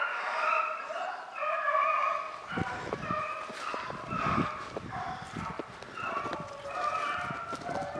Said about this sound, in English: the dogs are fighting over it down here